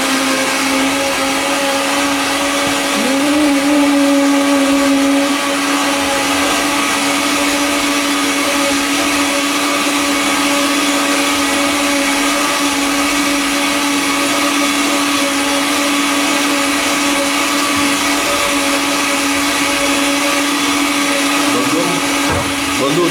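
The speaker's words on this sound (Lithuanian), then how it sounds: "supilti blenderį" An electric blender runs continuously, mixing coffee with milk and protein powder in a loud, steady whirring drone from start to finish.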